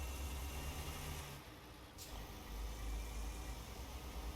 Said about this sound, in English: still a lot of truck noise